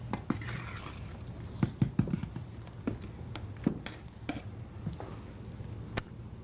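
A spoon scrapes and clinks in a bowl as flour is stirred into thickening batter, with irregular soft knocks and scrapes spread across the stretch, fairly close and moderately quiet.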